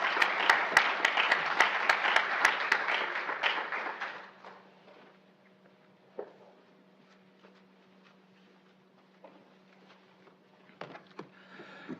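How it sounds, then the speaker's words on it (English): Audience at a Pacific Islander health conference clapping for presenters, dense applause that fades out after about four seconds, leaving a quiet room with a low hum and a few scattered taps. "Let's give a nice round of applause again to our presenters."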